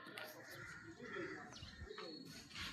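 Pigeons in a loft give soft, low coos with faint chirps and rustles nearby, quiet and intermittent over a short stretch.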